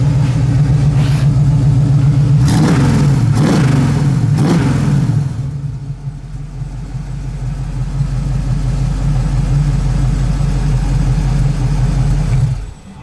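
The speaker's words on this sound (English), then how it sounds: "that car this motor runs so smooth" A 1965 Ford Mustang Fastback engine runs steadily nearby, revving in a few quick bursts early on before settling into a smooth, even idle rumble.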